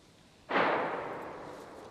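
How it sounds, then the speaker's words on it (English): Gunfire in the survival game DayZ: a single sharp broadband shot at mid-clip with a decaying echo tail, fairly close, no talking. "Who's that shooting? That's me."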